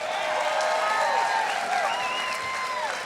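A live music audience gives loud, sustained applause with whistles and cheers for a band leader from Nashville, Tennessee, as he is introduced.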